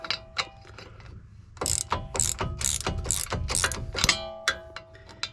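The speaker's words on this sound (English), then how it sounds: "This is a 17mm socket. Stick that on there and just loosen it up." A ratchet fitted with a 17mm socket loosens a brake caliper bolt, giving close, crisp clicking in quick bursts of pawl ratcheting separated by brief pauses, with occasional metallic knocks and no talking.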